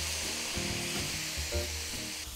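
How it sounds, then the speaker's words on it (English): Sherry poured into a hot pan of browned celery, carrots and onions, giving a loud continuous sizzle and hiss with scraping and clinking of a utensil against the pan. "And now we're going to deglaze the pan."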